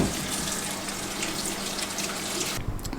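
Tap water running over cucumbers and ginger being washed in a sink, a steady close splashing hiss that cuts off abruptly near the end, leaving a few drips and handling sounds.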